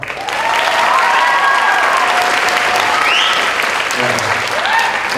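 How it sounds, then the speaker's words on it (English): Loud, sustained audience applause at a 2019 Hermiston High School spring band concert, dense clapping filling the room steadily from start to finish with a few faint cheers and voices underneath. "let's give her a big round of applause."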